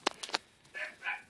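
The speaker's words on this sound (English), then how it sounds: "And I'm sorry for my dogs barking." Dogs yip and bark quickly, a cluster of brief sharp barks followed by two longer, softer yelps, fairly faint and somewhat distant, with no talk over them.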